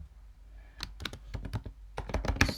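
Fingers type code on a computer keyboard in a series of close, crisp key clicks, sparse at first and then in quicker bursts, with no talking.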